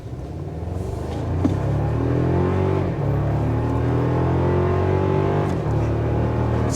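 The turbocharged engine of a 2024 Toyota Tacoma pulls hard under acceleration, a steady loud rumble rising in pitch through the gears with brief shift dips, heard from inside the cab without talk.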